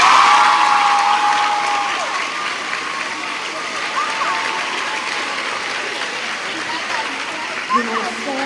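A school assembly stands and applauds an award presentation of an Honours Blazer, a broad, sustained wash of clapping from a large crowd of students in a hall, with a faint tonal hum early on and a brief louder spot near the end.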